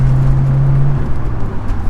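A Nissan 300ZX twin turbo engine drones from inside the cabin, holding a steady low tone for about a second before it drops away as a gear change is made, loud and close.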